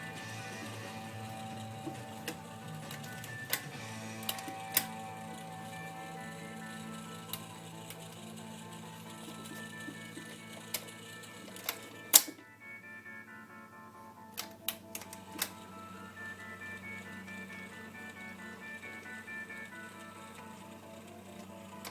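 Motor and turntable mechanism of a Magnavox console record player running steadily, a low hum with scattered light mechanical ticks and clicks, close and fairly quiet, no talking.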